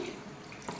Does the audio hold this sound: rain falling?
no